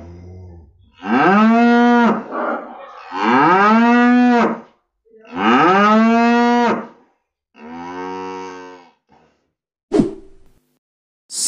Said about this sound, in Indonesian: Sapi Ria Ricis.